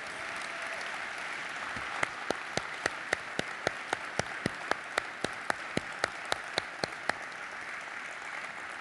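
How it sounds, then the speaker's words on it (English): Conference audience applause for local user group chapter members, a sustained crowd clapping with a run of loud rhythmic claps near the microphone standing out over the steady background of hands. "Let's give them a big round of applause."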